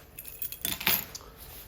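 A bunch of purple and gray RV door keys for a 2022 Cedar Creek 377BH fifth-wheel trailer jingles in a few quick, light metallic shakes, close by and quiet, with no voices.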